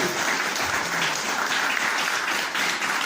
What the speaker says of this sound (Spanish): Un buen aplauso al Rey de la Gloria.